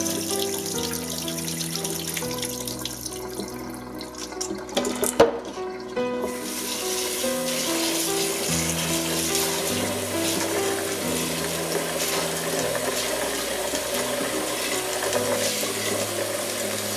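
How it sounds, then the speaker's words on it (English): Tap water runs steadily into a sink while soaked beans are rinsed and strained, a continuous close splashing rush with a short clatter partway through and light music underneath. "the beans have now been soaked overnight, and these need to be thoroughly strained, preferably several times."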